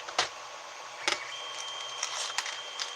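Stepper motors of a 3D printer running while it prints a case, a steady mechanical whine with a few brief higher clicks and bursts, fairly close and continuous with no talk over it.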